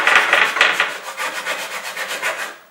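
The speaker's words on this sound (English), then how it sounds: "Probably might wanna sand" Hand sanding along a wooden sword, loud close rasping strokes in a brisk back-and-forth rhythm that gradually softens and fades out.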